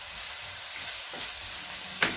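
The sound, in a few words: stirring vegetable rice frying in a pot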